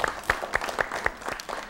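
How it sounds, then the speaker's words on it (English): Children at an elementary school quiz show give a brief round of applause, a few dozen sharp, evenly spaced claps over a couple of seconds, fairly close and moderately loud. "Give them a little round of applause."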